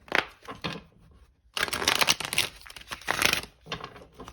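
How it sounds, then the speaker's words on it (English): Papery riffling and flapping of tarot cards being shuffled, two short bursts then a longer one, close up with no talking. "one last shuffle"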